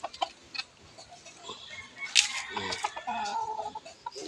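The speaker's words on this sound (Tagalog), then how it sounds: "Yung aking inahin." A hen clucks in a backyard garden, several short, close calls scattered through the clip over faint outdoor background noise, with a brief crow-like burst partway through.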